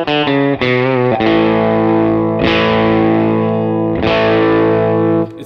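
A PRS electric guitar with its rhythm circuit giving a single-coil tone plays a few quick strummed chords followed by long ringing ones, loud and close with a distorted, effected sound.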